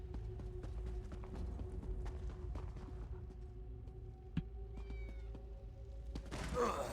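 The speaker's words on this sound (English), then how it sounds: "Is that a cat?" A cat meows inside a video game, with a short cry near the middle set against steady game ambience and background tones, with clip-clop footsteps.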